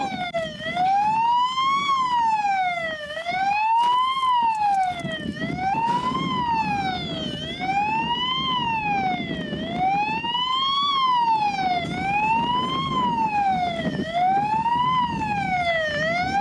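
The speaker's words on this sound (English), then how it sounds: "You shut that siren off for me?" A loud police siren wails continuously, rising and falling in a slow repeating cycle, close by with a low engine rumble underneath.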